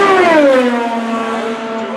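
Fernando Alonso's IndyCar screams past at full speed during Indianapolis qualifying, a loud, close engine whine that drops in pitch as the car passes by and fades away.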